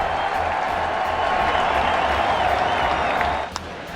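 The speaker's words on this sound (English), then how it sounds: "he walks off the mound to a thunderous applause" Thunderous applause and cheering fill a baseball stadium as Orioles pitcher Corbin Burns walks off the mound after an 11-strikeout debut, a dense, steady roar of the crowd lasting several seconds before dipping near the end.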